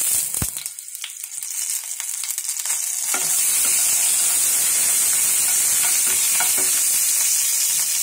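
Green chilies and curry leaves, with cumin seeds, sizzle and spit in hot ghee, a loud steady frying hiss that swells after a quieter start and carries on without talk.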